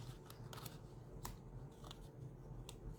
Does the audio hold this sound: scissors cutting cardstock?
yes